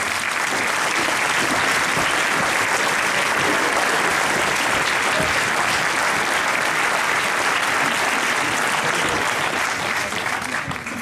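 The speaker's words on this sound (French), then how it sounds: "Je vous demande encore une fois d'applaudir mon équipe car elle travaille beaucoup" Sustained, dense applause from a large crowd at a New Year's greetings ceremony in Les Sables-d'Olonne fills the whole stretch, loud and steady with no pauses.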